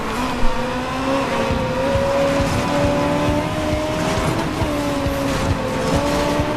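Engine drone of a racing car in Need for Speed Most Wanted, a steady loud hum with shifting pitch and a brief thump early on, running continuously with no talk.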